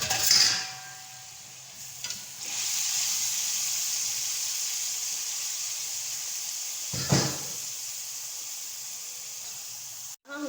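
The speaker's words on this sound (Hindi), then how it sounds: "मैं रैबिट को इसके अंदर अब डालूंगी।" Rabbit pieces dropped into a hot pan with spices, giving a steady broad sizzle throughout, with a brief louder burst at the start and another swell midway, then a sharp clatter near the end.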